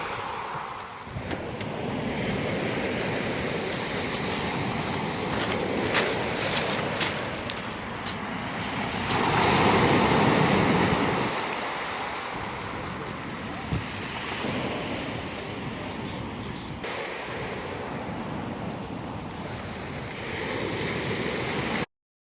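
Sea waves washing onto a beach at Makhinjauri, Georgia, a steady wash of surf with gusts of wind buffeting the microphone, heard alone at moderate level.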